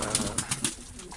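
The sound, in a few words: pigeons cooing on a balcony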